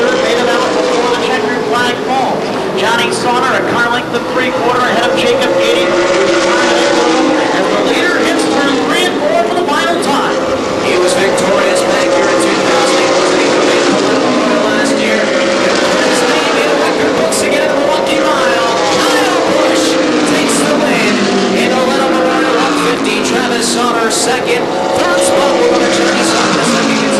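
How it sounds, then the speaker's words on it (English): Stock cars in an ARCA Midwest Tour race at the Milwaukee Mile oval roar steadily past, with a sustained engine drone and shifting pitch throughout, while a commentator talks over it. "Rowdy Busch will do it 1 more time around America's legendary oval."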